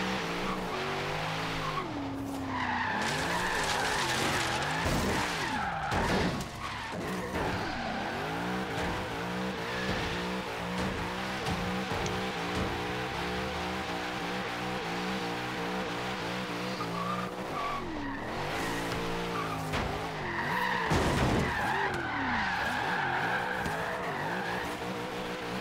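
Cars drag race at a night car meet in Forza Horizon 3, with engines roaring and tires squealing continuously and loudly. Harsh revving and screeching surge in bursts throughout, with a sharp spike near the end.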